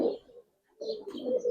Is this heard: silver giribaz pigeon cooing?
yes